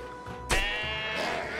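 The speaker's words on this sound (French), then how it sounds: "Je raccompagne ce mouton chez lui." A sheep in the video game Trine 3 gives a single clear bleat that starts sharply and trails off, heard close over a soft game backdrop.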